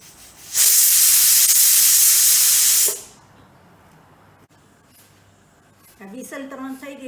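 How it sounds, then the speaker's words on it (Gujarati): A pressure cooker on the stove lets out a loud, sustained hissing whistle of escaping steam for about two seconds while Methi Thepla and Potato Curry are being made, then cuts off, leaving quiet room noise before a voice starts talking. "હવે કુકર બંધ કરી દઉં છું. 3 વિસલ વાગે ત્યાં સુધી કરવાનું."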